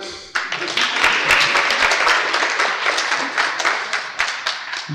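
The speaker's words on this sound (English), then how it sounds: "Clap, clap." Audience clapping at a Srimad Bhagavatam lecture bursts in sharply after a brief pause, then continues as loud, dense, steady applause from a close crowd for several seconds.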